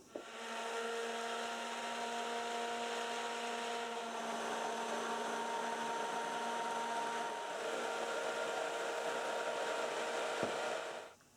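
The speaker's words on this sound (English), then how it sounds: "I'm just going to use a stick blender now just to blend these in really nicely" A stick blender whirs steadily for about ten seconds, mixing clays into oils for cold process soap, close and loud, with a slight shift in pitch midway before switching off.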